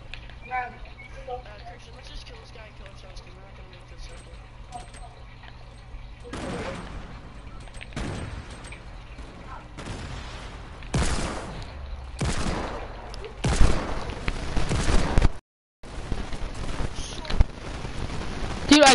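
Gunfire in the video game Fortnite: bursts of sharp shots, some rapid and overlapping, grow louder and denser over the clip, with a brief silent gap near the end and voices talking underneath.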